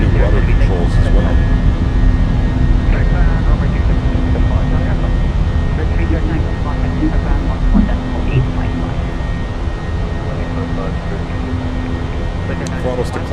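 A Fenix A320 airliner with IAE engines in Microsoft Flight Simulator roars steadily during its takeoff run, a loud continuous jet engine drone with a voice talking over it.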